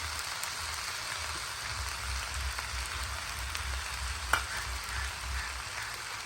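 An egg sizzles and fries in a hot pan while fried rice is being made, a steady close crackling hiss with one sharp tap partway through.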